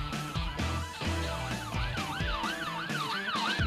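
A police car siren in the Brookhaven RP video game wails in a steady, repeating rise and fall, loud and continuous with no talking, over a low engine rumble.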